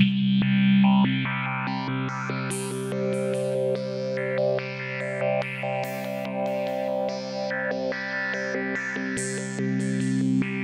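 A synth lead run through a Tantra VST plugin preset plays a rhythmic, gated, choppy pattern of stuttering notes with distorted, chorused and echoing textures, loud and without talk.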